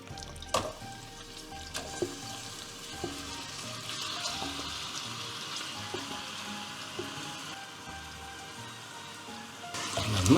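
Marinated green hariyali chicken mix fries in hot coconut oil with a steady, dense sizzle, broken by a few sharp clinks of utensils against the pan. No one speaks.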